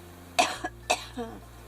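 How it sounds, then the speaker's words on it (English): Two sharp coughs close to the mic, each followed by a smaller catch, then a softer throaty cough trailing off over a low steady hum. "Trying to get rid of this tickle before I have a coughing fit again."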